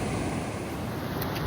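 Waterfall at Pedernales Falls in a Texas state park, a steady, dense broadband rush of flowing water that stays even and continuous throughout, with some wind on the microphone.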